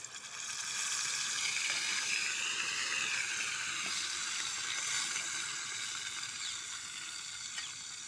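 Potatoes and spices sizzle in hot oil in a home kitchen pan while cooking biryani, a steady bright frying hiss with occasional stirring scrapes, continuous and close throughout.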